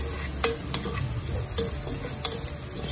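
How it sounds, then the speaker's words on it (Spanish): Parboiled quinoa boiling in a cooking pot gives a steady, close bubbling and sizzling hiss, with a few light clinks on top. No one speaks. "Miren cómo está hirviendo la quinoa."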